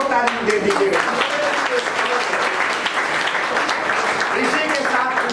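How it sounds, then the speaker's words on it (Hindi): Loud, sustained applause from a crowd of men at a business leaders' meeting of Supreme Field Developers, filling the whole stretch, with voices calling and speaking over the clapping. "मैं भाइयों से भी बोलूँगा एक बार आप लोग भी जोर ताली दे दीजिएगा"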